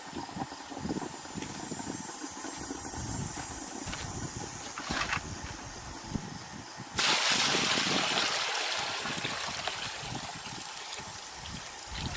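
Sugar syrup pours and trickles steadily into a John Deere 316 tractor tire, a continuous liquid gurgle over the low hum of an idling engine, swelling into a louder rushing flow partway through.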